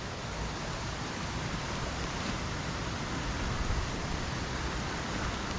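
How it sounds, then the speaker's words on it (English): A wide, fast-flowing river swollen after rain near a waterfall, heard as a dense, steady roar of rushing water filling the whole scene without pause. "because it's been raining, the river's running quite wide and fast now"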